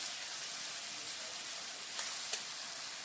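A spice paste of ground coriander, chilli paste and dried chilli powder fries in a pan for a vegetarian banana-flower ghonto, giving a steady close hissing sizzle with a few small pops and no talk.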